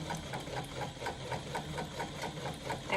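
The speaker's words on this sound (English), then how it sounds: "I have moved on to the Juki 1181N. It's my industrial machine that I use for the decorative top stitching." Juki 1181N industrial sewing machine running steadily while top stitching a faux leather pants waistband, a continuous rhythmic mechanical whir with regular needle ticks, close and alone.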